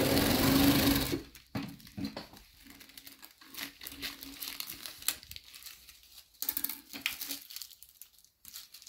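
A domestic sewing machine stitches through tissue paper on a V-neckline, a loud fast whirring run at first, then quieter intermittent bursts of stitching with paper rustling between.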